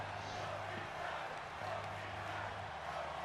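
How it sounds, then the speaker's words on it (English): A video-game wrestling arena crowd roars in a steady, dense wash of cheering throughout, with a low hum running beneath and no voices standing out. "As the crowd hypes up both these guys."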